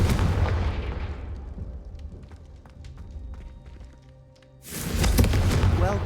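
Confringo spell blasts in the Hogwarts Legacy video game: a loud booming explosion that rumbles and fades over several seconds with crackling debris, then a second heavy burst near the end.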